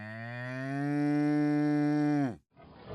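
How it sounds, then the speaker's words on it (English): A single cow moos loudly and close by, one long, steady, rich low call lasting about two seconds before it cuts off, followed by quiet background. "Cow,"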